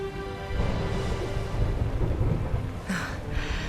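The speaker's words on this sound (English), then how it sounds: "Would you look at it thundering away out there?" A thunderstorm in the video game Dragon Quest XI, with steady rain hiss and a deep rolling rumble of thunder, and a brighter crack near the end.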